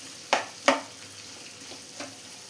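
Mushrooms sauté with salt in a pan for chilli mushroom. A few sharp spatula scrapes and stirs sound close over a faint, steady sizzle.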